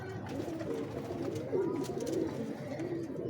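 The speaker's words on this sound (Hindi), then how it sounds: "बड़ा अच्छा कबूतर है ये देखें" A pigeon kept by a fancier coos softly nearby, low repeated calls over a quiet background with no talking.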